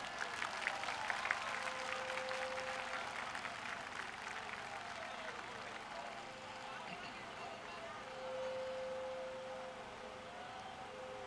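A large crowd applauds at an outdoor political rally on a road, broad clapping and cheering carried over a public address system with a sustained tonal hum running beneath, talk mixed in throughout.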